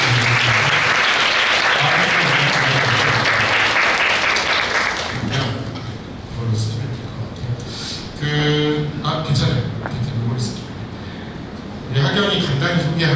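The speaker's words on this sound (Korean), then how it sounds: "아까 우리 하경이 앞으로 나와서 우리 박수를 한번 맞아주시면" Applause from an audience at a Korean parents' school session welcoming a graduate to the front, a loud, dense roar of clapping that thins after a few seconds while a voice talks over it, then swells again near the end.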